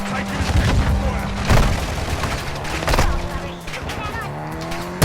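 Gunfire in Call of Duty during a hostage rescue: sustained rattling shots and booms over dense battle noise, with a few louder bursts standing out.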